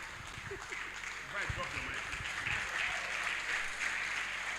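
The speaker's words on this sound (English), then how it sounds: "Please, a round of applause again for our doctor" A conference audience at a union workshop and delegate conference in Port Harcourt claps for a doctor, with steady, dense applause swelling after the first second, while a voice talks briefly over the start.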